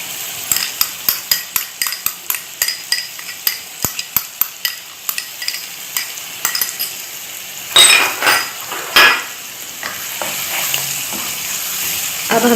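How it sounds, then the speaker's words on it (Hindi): Spices frying in a pan for khoya korma, a soft sizzle under repeated quick taps and clinks of a spoon against the pan, then louder scraping stirs, close by with no talking. "अब हमने 5 मिनट इसको 5 से 6 मिनट अच्छी तरह से इन मसालों के साथ भूनना है।"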